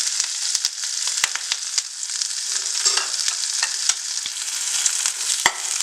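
Green chilies sautéing with mustard seeds in hot oil in a pan, a steady close sizzle broken by sharp pops and crackles and the scrape of stirring.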